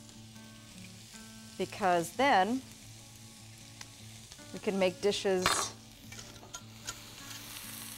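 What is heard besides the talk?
shallots frying in a pan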